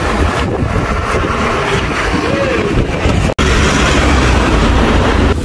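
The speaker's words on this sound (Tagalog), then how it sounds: "Lakas yung hangin dito." Strong wind buffets the microphone at a train station in Romania on the way to Rasnov, a loud continuous low roar with one brief dropout midway and no talk.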